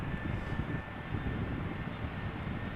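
An Airbus A320 arrives and touches down at Amsterdam Schiphol Airport in wet, crosswind conditions; a continuous broad jet-engine roar rumbles at a moderate distance, with no talking.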